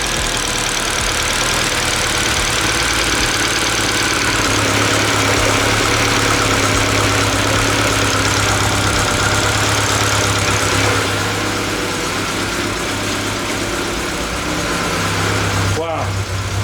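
A turbocharged Honda Integra engine idles loud and near just after its first start, with a rough, steady rumble and knocking texture. Fuel is leaking, and people talk over the running engine.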